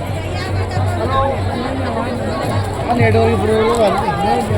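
Steady babble of a large crowd heading toward the Triveni Sangam ghat at the Maha Kumbh, Prayagraj, on Mauni Amavasya, with overlapping nearby voices and chatter throughout.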